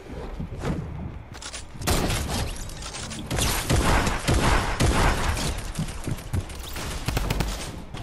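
Gunfire in Fortnite, a series of loud sharp shots and bursts interspersed with mechanical clicks, close and dominant with little talk.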